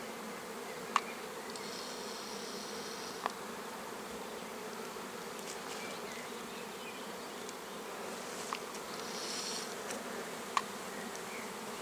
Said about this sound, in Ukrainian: а от бджола на ліс іде ну дуже гарно